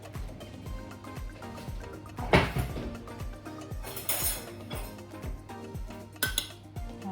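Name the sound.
spoon scooping cucumber brunoise from a dish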